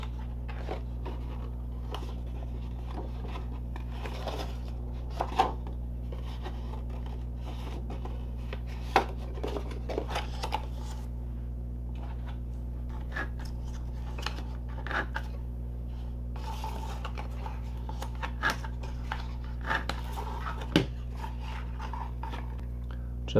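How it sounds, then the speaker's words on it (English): Cardstock for a box card being folded and burnished along score lines, soft scattered scrapes and light taps over a steady low hum, faint and close with no talking. "I'm going to fold and burnish along the score lines for our outside box piece"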